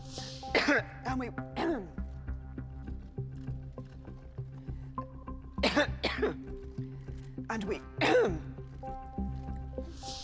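A woman has a prolonged bout of coughing during a party conference speech: loud, close coughs in clusters over a steady low hum, with several harsh coughs in quick succession.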